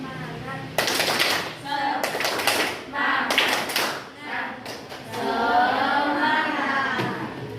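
A group performs a rhythmic spirit clap, with bursts of sharp, patterned hand claps coming in clusters, close by, between spoken prompts.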